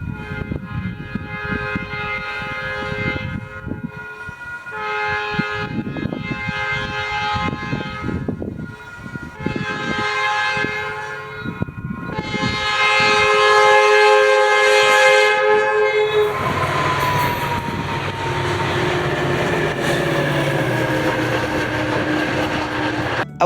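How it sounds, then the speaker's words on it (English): Southbound FrontRunner commuter train, locomotive 105 leading, approaches a crossing in Farmington, Utah, sounding a sequence of loud, multi-tone horn blasts, several short and one long, then roars past with a rumble and wheel squeal. "The final train I would see at this crossing would be a southbound frontrunner with 105 leading"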